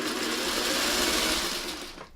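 A hand-cranked sewing machine stitches a Y seam on an eight-point star quilt block, giving a steady, close whirring hum that runs continuously before easing off at the end.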